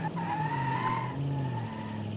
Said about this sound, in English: This thing does like to spin out there.